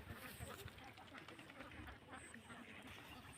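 Laying ducks quack in an open field, a faint scattered chorus of calls over low background noise.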